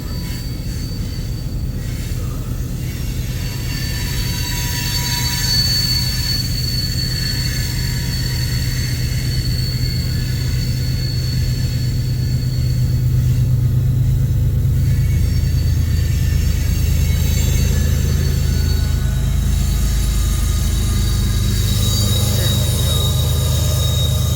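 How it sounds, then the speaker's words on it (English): A freight train rumbles past with a rear DPU locomotive at a rail junction in Iowa. The roar is steady and loud with continuous rolling wheel noise and a faint high wheel squeal throughout. "Here comes our rear DPU."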